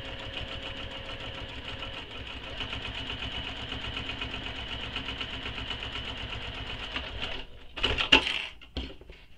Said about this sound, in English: So you're going to be top stitching on top of D and then top stitching on top of B.